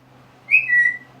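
A pet parrot gives one short, clear whistle, a bright rising-and-falling note about half a second long, close by in an otherwise quiet room.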